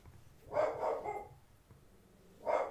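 A pet dog barks in a home during a July 4th livestream, giving a couple of quick close barks, a pause, then another bark.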